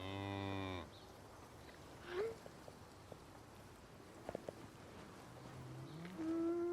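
A yak mother in a pen lowing for her missing newborn calf, with long, loud moos at the start and end of the clip and quieter ambient farm sounds in between.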